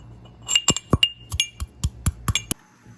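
A piece of ginger is pounded in close succession, about nine sharp, hard knocks with a bright clinking edge spread irregularly over a few seconds, with no talking.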